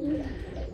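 Racing pigeons, widowed cocks in a loft, give a short, close, low coo with a soft throaty warble and no other sound.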